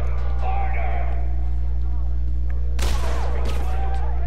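A burst of gunshots in Batman: Arkham City breaks through a steady low game hum near the end, a sharp, loud crackle of several shots over background noise.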